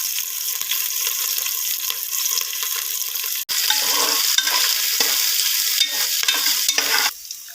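Onions and green chili frying in oil in a pan, a steady sizzle with stirring scrapes and a sharp clack near the midpoint, close and fairly loud with no talking.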